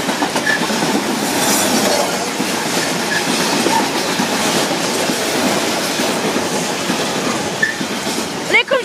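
A GBRF Class 66 diesel locomotive in DRS livery, number 66415, hauls a freight train from Immingham to Ratcliffe past a level crossing, with a steady loud rumble and clattering wagons throughout, closing with a brief squeal.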